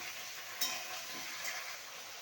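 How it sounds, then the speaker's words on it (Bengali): Malabar spinach is stirred in a hot cooking pan, producing a steady, soft hiss of frying with faint scraping from the spatula, close and even throughout with no talking. "পুঁই শাকটা দিয়ে ভালো করে নাড়িয়ে নেব।"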